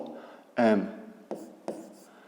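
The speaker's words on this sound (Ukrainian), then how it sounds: "Пишемо кут АОМ." A pen scratches short strokes across paper while writing out a fifth-grade geometry angle exercise. The strokes are close and quiet, and a brief, soft burst of voice comes in among them.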